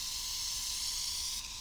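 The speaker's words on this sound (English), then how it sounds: "any fluid that I put through the airbrush will come out the other end, and I can literally just spray that on my hand as well" Cheap dual-action airbrush misting deionized water onto a hand: a steady, close, continuous hiss of fine spray running unbroken throughout, dipping slightly near the end.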